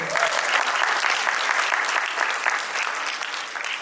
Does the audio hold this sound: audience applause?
yes